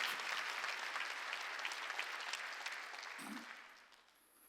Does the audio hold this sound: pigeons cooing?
no